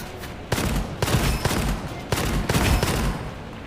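Combat in the first-person shooter Gunfire Reborn: loud bursts of gunfire and explosive blasts in quick succession, several sharp strong hits over a few seconds with dense rumbling noise between them.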